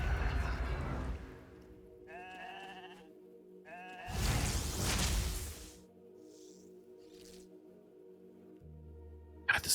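Sheep bleats from a polymorph spell in a video game, two clear wavering bleats close together, then a broad burst of game noise over a steady background hum.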